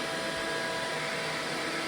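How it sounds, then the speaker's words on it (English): A vacuum cleaner sucks up water from a floor during post-construction drywall dust cleanup, giving a steady, loud, continuous whooshing roar with no breaks and no talk. "So after that water's on the ground, just vacuum it up very quickly."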